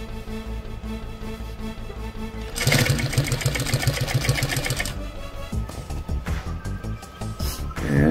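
A sewing machine stitches a hem on a pair of jeans, its steady loud motor whirring and needle chattering continuously, rising into a faster, busier run in the middle before settling back.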